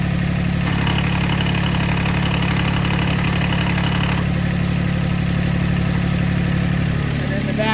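A Massey Ferguson GC2310 compact tractor engine runs steadily at idle with the front and mid PTO engaged, a loud, constant close drone throughout with a slight shift in tone near the end.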